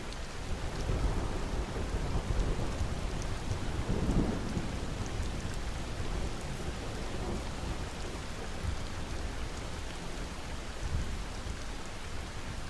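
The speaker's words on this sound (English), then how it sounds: "savoring the soothing music of the rain and distant thunder." Steady, dense rainfall pours down continuously, with low rumbles of distant thunder rolling beneath it, especially around the middle.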